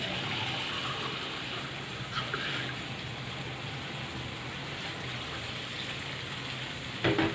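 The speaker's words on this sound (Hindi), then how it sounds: "पानी थोड़ा और डालेंगे इसमें।" Water is poured into a pan of potato and vegetable biryani, making a steady hissing rush mixed with sizzling that runs for several seconds before a brief clatter at the end.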